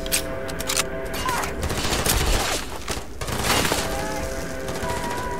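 Machine gun fire during a battle with pirates in the space game Starfield, sustained rapid bursts with crashes and impacts, loud over a droning game soundtrack.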